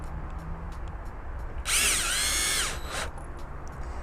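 A power drill drives screws into a wooden planter box, one short, close, loud burst of motor whine lasting just over a second, set against a steady background hum with no talking.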